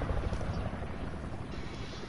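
A video-game helicopter flies overhead as a dense, steady rotor and engine rumble, loud and continuous with no clear speech.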